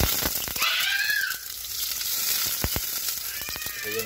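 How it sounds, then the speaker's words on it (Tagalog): Garlic frying in hot oil in a pan, a steady close sizzle with a few sharp clicks and light clatters, no talking. "At meron na yan mantika. Lagay natin yung ating garlic."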